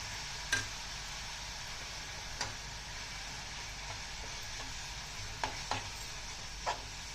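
Dry coconut powder being stirred into a tamarind leaf fry in a pan on a slow flame: a faint, steady sizzle broken by a few soft scrapes and taps of the spoon.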